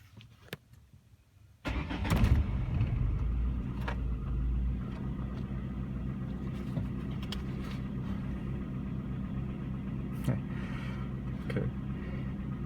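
A 1998 Ford Contour 2.0L engine cranks and catches after a quiet moment, then settles into a steady, close idle that rumbles on without a break.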